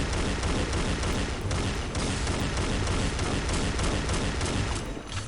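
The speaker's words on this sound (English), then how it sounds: "In that case, I might as well shoot the star." Rapid continuous video game gunfire, a dense stream of loud close shots with steady rhythm lasting throughout, alone without talk.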